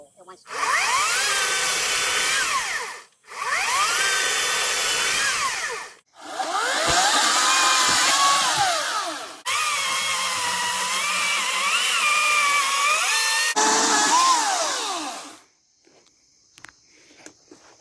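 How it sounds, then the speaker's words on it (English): A Hart 14-inch battery chainsaw cuts through wood in five loud bursts separated by short pauses, a whining electric motor and chain buzz close by, ending in quiet with faint knocks. "We were curious about how loud this saw would be,"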